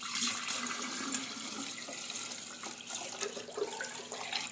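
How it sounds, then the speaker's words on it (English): Water poured from a pitcher into a vase, a steady close splashing trickle running for several seconds with slight bubbling near the end, no talk over it. "We have a pitcher of water, but when I pour it into this vase,"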